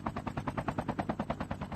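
Rapid automatic gunfire from an AK-117 in Call of Duty Mobile Battle Royale: an even, fast string of about a dozen shots in under two seconds, moderately loud, with no voices.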